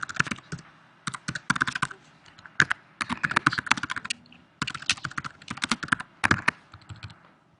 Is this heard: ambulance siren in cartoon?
no